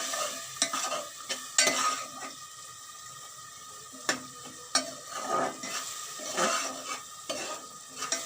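Spices are stirred and fried in a pan with a little water, giving a soft continuous sizzle broken by repeated scraping strokes of a spoon against the pan, close and fairly quiet.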